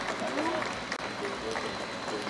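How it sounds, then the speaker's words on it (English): Applause from the audience at a Central Bank of Belize banknote design reveal ceremony, steady clapping throughout at moderate distance with faint voices mixed in. "Another round of applause, please"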